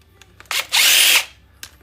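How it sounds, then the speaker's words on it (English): A power drill backs screws out of a computer fan in one short, close, high-pitched whir lasting about half a second, with quiet handling clicks before and after. "Pop these screws out of here real fast."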